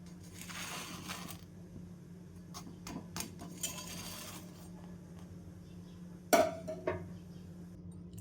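A jowar bhakri flatbread is flipped on a pan, giving a few light clinks and scrapes over a low kitchen hum, then one sharp knock followed by quick rattling taps near the end.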